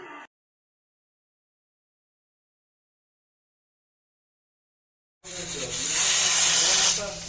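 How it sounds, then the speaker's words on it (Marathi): Steam hisses loudly from a pressure cooker whistle while chicken leg pieces cook for biryani. A long silence comes first, then a strong, steady rush of steam starts suddenly and lasts to the end. "आता कुकरला 4 शिटी आलेले आहे."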